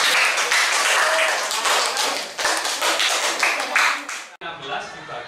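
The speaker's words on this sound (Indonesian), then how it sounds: "Kasih tepuk tangan untuk Sabik dong." Fifth-grade schoolchildren clapping together in a maths classroom, a loud dense burst of many small hands with uneven taps, fading into quieter clapping near the end as voices mix in.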